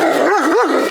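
One loud, close dog bark is drawn out into a wavering, howl-like yelp that rises and falls in pitch.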